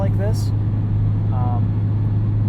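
A 2020 Honda Civic Type R driving, its steady low engine drone running continuously under a voice throughout.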